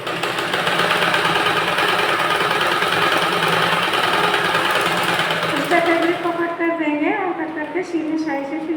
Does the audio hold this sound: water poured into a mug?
no